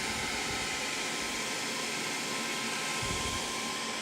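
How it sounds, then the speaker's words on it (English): Small handheld dryer blowing air over freshly applied glossy paint on cabinet work, a steady close whooshing hiss that runs unbroken throughout. "Just going to use a little dryer just to kind of speed up that process."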